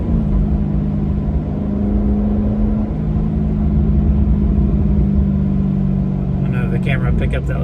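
A Chevy SS's engine gives a steady low rumble from inside the moving car, with road noise underneath and a faint crackle near the end, while a voice talks over it.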